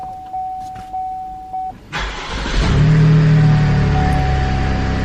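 A 2018-or-later Buick Enclave's engine starting from the push-button start: a few brief chimes, then the starter cranks and the engine catches and settles into a steady, fairly loud idle nearby.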